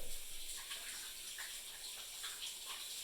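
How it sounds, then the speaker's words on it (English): Water runs steadily from a tap as hands are rinsed at a kitchen sink, a soft, continuous hiss and splash heard close and fairly quiet without talk. "So let me rinse my hands real quick."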